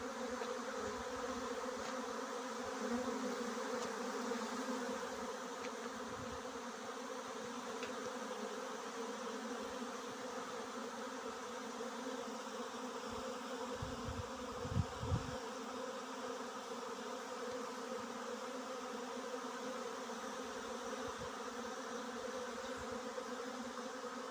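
A honey bee swarm clustering on a high perch, a steady layered buzzing hum of many bees filling the air continuously, with a couple of brief low bumps partway through and no speech.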